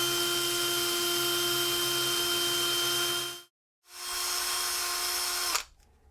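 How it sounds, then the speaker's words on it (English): A power drill spins a wooden dowel held in its chuck like a lathe while fine sandpaper shapes a dome on the end; a steady high whine runs, stops briefly, restarts, then cuts off. "I can then put that in a drill chuck and form that dome with some fine sandpaper"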